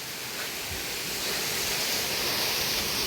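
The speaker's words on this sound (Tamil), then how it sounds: "கீழேயும் அப்படியே வாட்டர் ஃபால்ஸ் மாதிரி தண்ணி ஊற்றிட்டு இருக்குங்க" A waterfall pours down in a continuous, close hiss and rush of falling water, steady and fairly loud with no voices over it.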